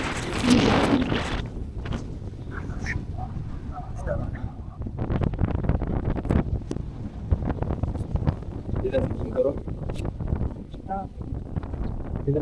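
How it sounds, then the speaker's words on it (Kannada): Strong wind gusting hard across an exposed hilltop trekking trail at Devarayanadurga, buffeting the microphone with heavy low rumbles while a person talks intermittently over it. "ಗಾಳಿ ಮಾತ್ರ ಚೆನ್ನಾಗಿ ಬೀಸ್ತಾ ಇದೆ."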